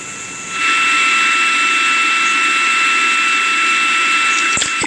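A SpaceX Falcon 9 rocket engine roars steadily during launch, a loud sustained broadband rush that rises after a brief quiet start and holds constant, with faint clicks near the end.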